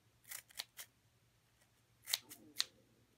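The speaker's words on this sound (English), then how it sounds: "let's go ahead and take our handy dandy choppers. What do they call these? Fringe scissors." Fringe scissors snip through paper in crisp, close cuts: three quick snips, a pause, then two or three more sharp chops, quiet and alone.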